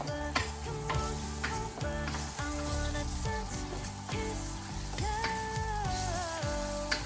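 Garlic sizzles and fries steadily in a pan for beef caldereta, a close continuous crackle with light stirring and utensil clinks throughout.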